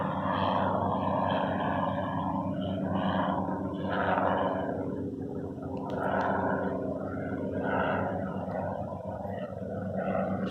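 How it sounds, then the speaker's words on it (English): A helicopter flies overhead outdoors, a continuous low rumbling drone that swells and eases slightly as it passes, steady and moderately loud with no talking. "There's a helicopter."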